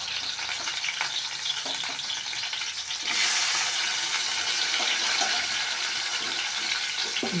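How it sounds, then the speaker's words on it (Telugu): Salted bitter gourd pieces sizzle in hot oil in a pan, a steady frying hiss that swells louder partway through, with no talk. "బ్రౌన్ కలర్ వచ్చేదాకా వేయించుకుందాం."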